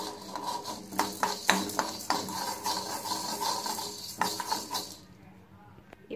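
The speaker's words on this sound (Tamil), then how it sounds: "இது நல்லா கொஞ்சம் கோல்டன் ப்ரௌன் ஆகிறதுக்கு நம்ம வறுத்து எடுத்துக்கலாம்." Urad dal roasts in a pan, with scraping and clinking from a spatula against the metal in uneven bursts at moderate distance, then trailing off into near quiet.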